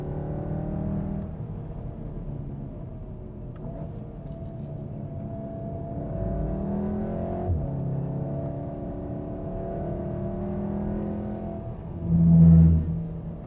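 A 2015 Volkswagen Golf R rumbles steadily along a track, its engine holding a low, even drone with a brief swell of revving near the end.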